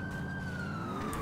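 A police car siren in the video game GTA wails in a long falling sweep, steady and moderately loud, with no talk over it.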